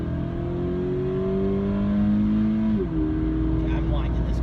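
A 2019 Toyota 86 engine winds out hard from inside the car, a loud rising rev that climbs steadily, drops briefly at a shift, then pulls again while occupants talk over it.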